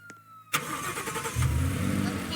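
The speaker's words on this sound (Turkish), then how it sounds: "O motor." A toy motorcycle's engine sound kicks in abruptly after a faint start, then runs on as a steady electronic motor hum that grows slightly louder partway through.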